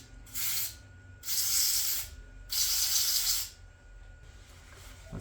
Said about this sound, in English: I'm just going to spray all the goop off it.